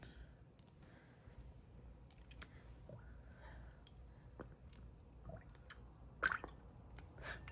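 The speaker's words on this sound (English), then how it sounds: "The sound of the water is so funny to me." Soft water sloshing and squishy clicks as a fountain pen nib is rinsed, faint and close, with small drips and taps scattered through quiet pauses and a couple of sharper knocks.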